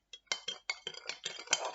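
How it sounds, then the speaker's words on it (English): A spoon clinks and scrapes around a container, stirring a few drops of soy sauce into a quick pickle marinade, with a rapid series of close, bright metallic taps and no voices. "And then I'm going to stir that round."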